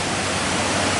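Rushing water at Mae Rim Waterfall near Chiang Mai, Thailand, a steady, dense broadband roar that fills the short stretch without any break.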